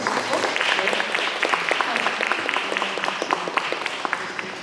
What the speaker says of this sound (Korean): 박수 다시 한번 주시고